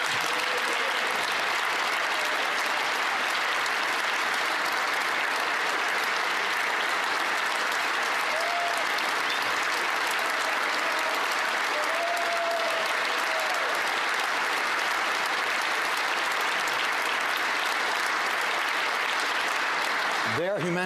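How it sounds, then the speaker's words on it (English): Sustained applause fills the House of Commons chamber, a steady, dense clapping from many members that holds evenly for about twenty seconds before tapering off at the end. "members will also want to applaud"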